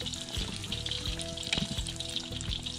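Beer-battered walleye fillets frying in a pan over a grill for a shore lunch, crackling with a busy, close sizzle and scattered sharp pops, with no voices.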